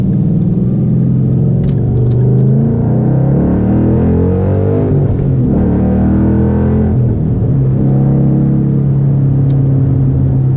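A 2012 Ford Mustang Boss 302 accelerating hard: a loud, continuous V8-style engine roar rising and falling through the revs, close and dominant throughout with no voices.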